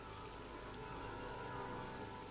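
Steady rain ambience in the Nancy Drew: Legend of the Crystal Skull video game, a continuous even hiss of drops falling on surfaces, filling the scene without a break or any voices.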